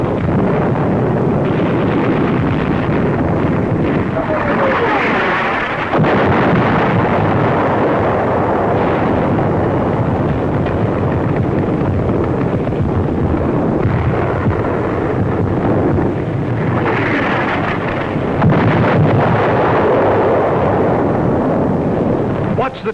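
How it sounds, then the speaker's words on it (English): Artillery shells burst in the North African desert in 1942, dull heavy booms and rumbling blasts rolling under wind buffeting the microphone, with a narrator talking throughout. "Our artillery begins to find the range."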